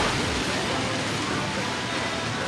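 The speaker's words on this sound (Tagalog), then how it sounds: "Oh, lakas ng ulan." Heavy rain pours steadily as a broadband hiss, loud and constant throughout, on a street near Quezon City during a motorcycle ride on a Yamaha Aerox V2.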